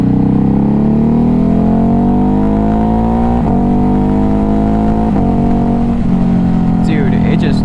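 Ducati Hypermotard 950 RVE motorcycle (2021 model) accelerating, its engine note climbing steadily and loudly through the gears with brief dips at the shifts, close up, with a voice talking over it.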